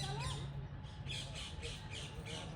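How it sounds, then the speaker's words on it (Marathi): Peacock calling along a rural pilgrimage walking route, a few repeated squawking calls rising above steady outdoor background noise. "गाईज मोर बघा."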